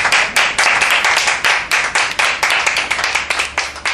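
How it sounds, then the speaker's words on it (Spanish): Rhythmic studio audience clapping on a Spanish television programme, steady loud beats in unison at about four claps per second, lasting throughout without talk. "Donem un aplaudiment."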